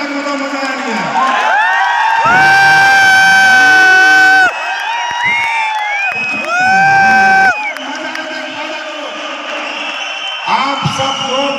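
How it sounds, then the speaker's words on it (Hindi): An audience at a function lets out loud bursts of shouted cheering, with sustained group yells rising and falling twice, while a host speaks between them. "जोर से ताली बजा के हल्ला मचा के बताओ मजा आया नहीं आया?"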